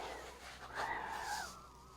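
Heavy, wheezy breathing through a face shield worn over glasses, with a protective apron and gloves, in a metal workshop; one long, rasping, close breath swells and fades with no talking.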